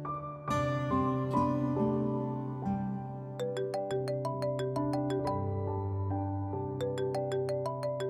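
A phone ringtone plays for several seconds as a melodic, repeating electronic tune with bright chiming notes, ringing on without being answered.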